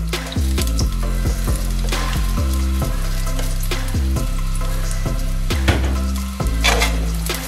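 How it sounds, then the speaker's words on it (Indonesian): Sliced onions sautéing in oil, a steady close sizzle broken by repeated rhythmic scraping and clacking of a spatula against the pan. "Kita mau tumis bawang bombaynya dulu."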